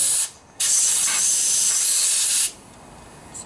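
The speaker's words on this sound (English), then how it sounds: "I'm going to spray some air in there now to make sure everything dries out" Compressed air blasts into the carburetor of a Snapper riding lawnmower, one loud steady hiss lasting about two seconds that cuts off sharply, with a faint puff after it.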